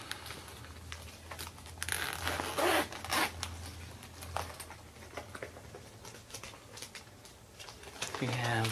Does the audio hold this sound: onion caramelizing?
no